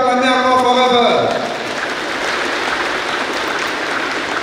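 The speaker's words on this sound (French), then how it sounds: "Est-ce qu'on peut acclamer encore Forever?" An audience at a Success Day event in Niamey bursts into loud, sustained applause and cheering after a voice speaks over the start, and the clapping continues as a dense, steady wash.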